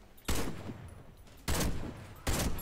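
Three loud, sharp sniper rifle shots in the Warface shooter game, each a sudden broadband crack followed by a short decaying tail, spaced roughly a second apart with no talk.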